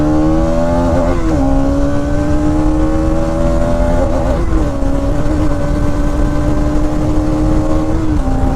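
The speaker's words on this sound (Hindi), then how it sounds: "मैंने खराब रोड पर भी थोड़ी अच्छी स्पीड में निकाली है गाड़ी" Bajaj Pulsar NS 200 BS6 motorcycle ridden fast over a rough road, its engine droning loud and steady with a few brief dips and rises in pitch as the throttle shifts, close and continuous throughout.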